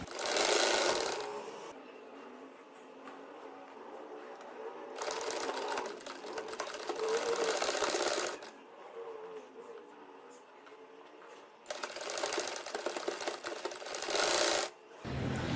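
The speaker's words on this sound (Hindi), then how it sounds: "अब मगजी को सिलाई लगाकर रेडी करते हैं।" A sewing machine stitches piping onto a trouser cuff in three separate bursts of rapid, steady whirring, with quieter pauses between runs as the fabric is repositioned.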